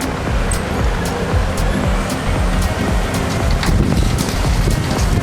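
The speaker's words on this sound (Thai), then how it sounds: "โอ้พี่ตั้มเรียกลมมาแล้วครับเนี่ย" Wind roars steadily across an outdoor microphone, a dense rushing rumble with low buffeting gusts that holds for about five seconds, with no talking.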